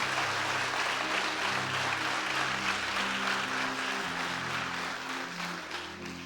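A church congregation applauds during a Spanish-language service, giving a steady, full wash of clapping that fades slightly toward the end, over a low sustained hum of instrumental tones.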